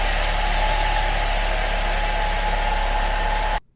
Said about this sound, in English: There she is, the mighty 2-litre Duratec.